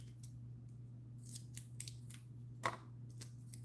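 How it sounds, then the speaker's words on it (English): Scissors snipping through tape, a series of quick close crisp cuts over a low steady hum, each snip brief and separated by short pauses. "That's why we're cutting it up the middle so that it fit flush down in the frame"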